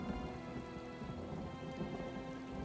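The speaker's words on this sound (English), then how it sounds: "I could do without this damnable rain. It's been storming since we arrived" Steady rain pours down during a thunderstorm in the Elder Scrolls Online game world, a dense continuous hiss with a low rumble underneath, even and unbroken throughout.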